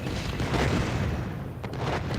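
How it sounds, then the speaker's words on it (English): Cataclysm explosive arrows going off in the VR game In Death: Unchained, a dense continuous roar of overlapping booming blasts with rumbling low end, loud and steady throughout. "Cataclysm, they're an explosive arrow, kill lots of enemies together"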